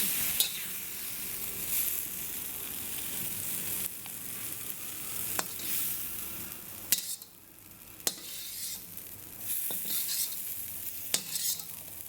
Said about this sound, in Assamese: এয়া মোৰ লেহেতি ভাজি সম্পূৰ্ণ হৈ গৈছে পূৰা।